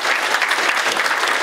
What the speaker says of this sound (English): And just give Craig a round of applause.